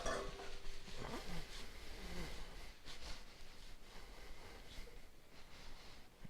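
Greens being stirred in a stir-fry pan give a steady low sizzle with faint scraping and clinks from the utensil, continuous and moderately quiet throughout.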